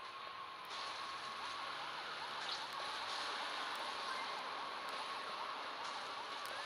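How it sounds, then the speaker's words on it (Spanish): A police siren from the racing game Beach Buggy Racing 2 wails continuously through the whole stretch, steady and fairly loud, layered over the game's engine noise and busy race sounds with no one talking. "estoy cansado del sonido del policial. Que suena mucho en el torneo."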